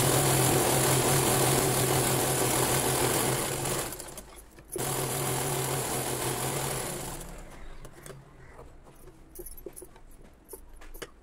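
A sewing machine hums steadily while double-stitching the seam of a Punjabi dress bottom, stopping briefly, restarting, then giving way to quieter handling clicks and rustles.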